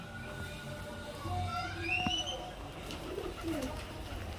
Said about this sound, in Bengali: দেখতে পাচ্ছেন ফ্রেন্ড অনেকগুলো পায়রা আছে প্রচুর পায়রা আছে